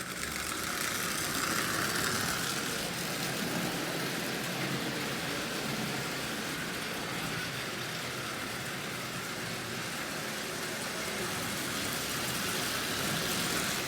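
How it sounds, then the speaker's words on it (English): A Marx 898 toy locomotive's electric motor runs steadily, a constant whirring hum with a fine rattling texture and no change in pitch or level throughout. "the motor's mounted and running perfectly, as you see. Forward and reverse."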